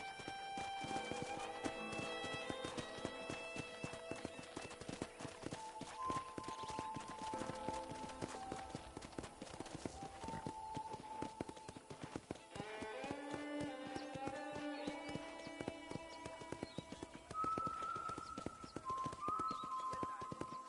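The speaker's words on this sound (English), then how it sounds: "I picked out a fine horse for you." Horse hooves in Red Dead Redemption clip-clop steadily at a walking pace over a continuous backdrop of soft orchestral game music.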